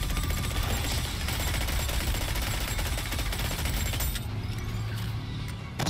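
Dense, continuous automatic gunfire in the co-op video game GateKeeper III, rapid overlapping shots and impacts filling the whole stretch at steady loudness, with a brief shift in texture near the end and no talking.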